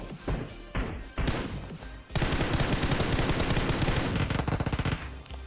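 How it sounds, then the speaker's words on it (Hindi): Gunfire in the game PUBG Mobile, with a few heavy blasts at first, then a long rapid burst of automatic shots, loud and close. Nobody speaks. "मैं मार देता हूँ उसको एक बॉडी शॉट"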